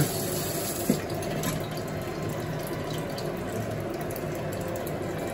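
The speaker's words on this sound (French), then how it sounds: "Donc je lave le fouet." A whisk is rinsed under a running kitchen tap, giving a steady close splash of flowing water that continues throughout, with a light clink near the start.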